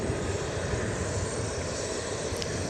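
A Boeing 737-700 airliner arriving at Dallas Love Field gives a steady, moderate, broadband engine rumble and rush, heard at a distance throughout, with no talk.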